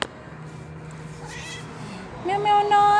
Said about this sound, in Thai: แมวแมวน้อย